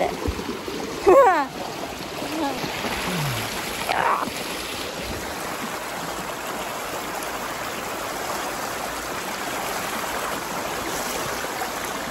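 Continuous rushing water of Dao Falls in Cebu, a broad steady wash heard at moderate distance, with brief voices and a few bumps early on.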